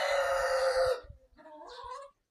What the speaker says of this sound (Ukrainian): півень співає.